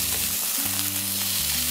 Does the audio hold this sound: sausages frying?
yes